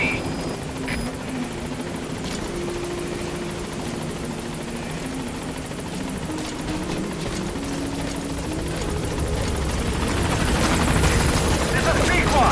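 Helicopter arriving at a landing zone in Metal Gear Solid V: The Phantom Pain, a steady heavy rotor drone and engine buzz that swells louder toward the end, with faint radio-style game voices underneath.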